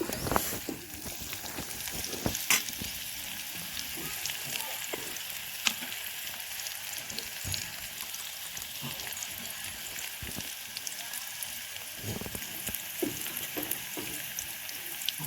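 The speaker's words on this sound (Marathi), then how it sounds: "चांगला भाजून घ्या कांदा." Onion frying in a pan as banana flowers are cooked into a vegetable dish, giving a steady crackling sizzle with scattered sharper pops and occasional stirring clicks throughout, no voices.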